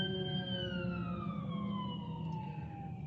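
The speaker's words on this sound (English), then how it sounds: "fire truck just went past" A fire truck's wailing siren passes outside, heard from indoors at a distance, its tone sliding steadily downward as the vehicle moves away beneath a low rumble.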